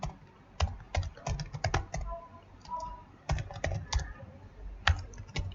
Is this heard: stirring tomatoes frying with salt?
no